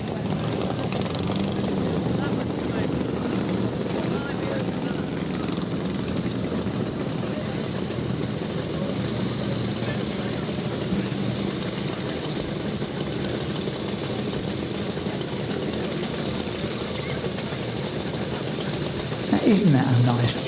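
Vintage two-stroke motorcycles, including a small James utility model, set off at the Banbury Run, a steady blend of buzzing engines lasting throughout with a rising whine near the end, with voices mixed in.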